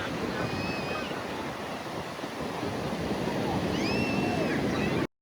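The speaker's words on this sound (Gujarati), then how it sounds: "આ પાણી આવ્યું જો" Sea waves wash up on Dandi beach in a continuous loud rushing surf, with wind buffeting the microphone. The sound swells toward the end before cutting off abruptly.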